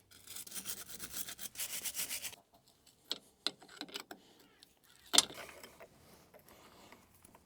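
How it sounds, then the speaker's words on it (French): Wire brush scrubbing paint off the threaded rod of a steering damper on a Nissan Patrol Y60, a steady run of rapid rasping strokes followed by scattered clicks and scrapes, close and fairly quiet. "Là je vais venir retirer à la brosse métallique la peinture qui a été mise ici sur le filetage."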